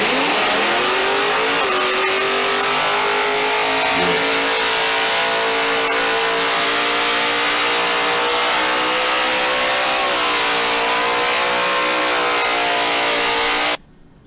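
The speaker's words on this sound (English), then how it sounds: "I'm looking for a video of the original Mustang" Supercharged Mustang street machine with flames revving hard, a loud sustained engine roar with pitch climbing and holding across several surges before cutting off abruptly, played back from a recording with no talk.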